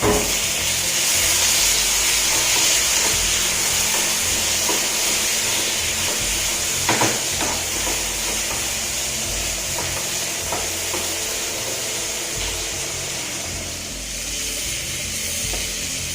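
Tomato and onion sautéing in a pan hiss loudly and continuously, with stirring scrapes near the middle, and the sizzle eases slightly toward the end. No voices are heard.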